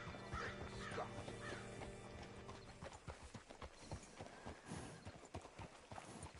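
Horse hooves clip-clop in a steady walking rhythm in the video game Red Dead Redemption 2, close by, over a low ambient drone, with a few sharper knocks and thuds later on.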